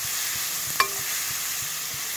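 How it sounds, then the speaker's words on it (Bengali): Garlic fries in hot oil with an even, steady sizzle close by, marked by one sharp metallic clink partway through, and no talking. "নহৰুটো ভালকে মই তেলত ভাজি মেলি লম"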